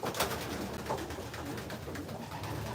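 Pigeons in a loft cooing and calling, a steady, busy chorus of overlapping soft coos and flutters at moderate volume throughout.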